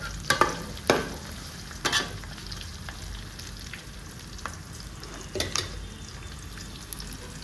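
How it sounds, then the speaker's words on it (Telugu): Onions fry in a pan for Nellore fish curry, a low steady sizzle close by, broken by a few sharper scraping stirs of a spoon at irregular moments. "మనకి ఉల్లిపాయలు వేగిన నాయిస్ అయితే వస్తుంది."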